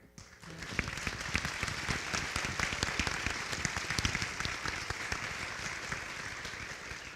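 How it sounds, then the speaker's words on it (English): A convocation audience gives sustained applause for community storytellers, a dense, steady wash of many hands clapping that begins sharply and holds at an even level throughout. "Please give a big round of applause once again."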